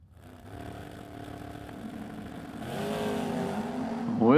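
Drag racing cars launching down a racetrack at King of the Creek, including an S10, with engines droning and revving steadily louder, ending in a sharp rising rev burst close by.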